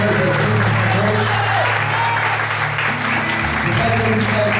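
A church congregation applauds at an evening service, a dense, continuous wash of clapping heard close and fairly loud while a voice talks over it.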